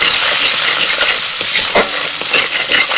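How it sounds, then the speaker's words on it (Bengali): A paste of cumin, ginger and green chili frying in a pan with ground coriander, turmeric and Kashmiri chili powder, giving a loud continuous sizzle close up, with stirring scrapes and light clinks of the utensil throughout. "জিরে, আদা, কাঁচা লঙ্কা বাটা একটু ভেজে নিয়ে দিয়ে দিচ্ছি ধনে গুঁড়ো, হলুদ গুঁড়ো, কাশ্মীরি লঙ্কার গুঁড়ো"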